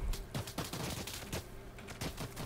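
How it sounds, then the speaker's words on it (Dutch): Many gunshots ring out during unrest in the city of Leeuwarden, a rapid, irregular fusillade of sharp cracks in short bursts, fairly faint and distant. "Ik hoor echt heel veel schoten."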